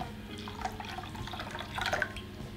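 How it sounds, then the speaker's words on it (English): Warm water pours from a measuring jug into chocolate cake batter already mixed with milk and vegetable oil, a steady near trickle and splash running the whole time with a brief louder gush near the end. "And then you're also going to want 230 ml of warm water too."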